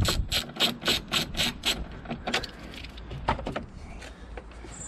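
Ratchet clicking rapidly as two Torx screws are undone from a panel on a BMW with an M47 or M57 diesel engine, quick bursts of close pawl ticks followed by scattered lighter clicks and rubbing.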